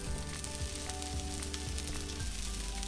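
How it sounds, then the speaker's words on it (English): A hummus vegan sandwich toasts in a pan right after being flipped, giving a steady, faint, crackling sizzle with no talking. "I don't know if you can hear the sizzle"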